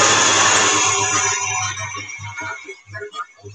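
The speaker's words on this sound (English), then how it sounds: "And I'm going to chop away." Herbs being chopped for homemade herby mayo with a food processor or chopper, a loud steady whir that runs for about two seconds and then breaks into short pulsed bursts.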